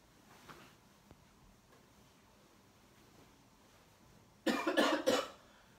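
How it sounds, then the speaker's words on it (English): Someone with a persistent cough lets out a short burst of harsh coughs close by near the end, after several seconds of near-silent room tone. "I got non-stop coughing"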